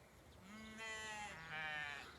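Sheep bleat in a meadow: a few drawn-out, wavering calls, fairly faint and somewhat distant, with no voices nearby.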